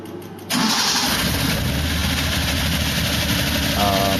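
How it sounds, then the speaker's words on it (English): Nissan Skyline Hakosuka with a swapped, non-stock, grumpy-sounding engine fires up abruptly and settles into a loud, rough, steady idle close by. "it didn't have a stock engine and it had a grumpy sounding engine"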